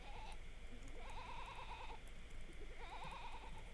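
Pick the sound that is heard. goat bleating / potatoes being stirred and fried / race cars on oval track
goat bleating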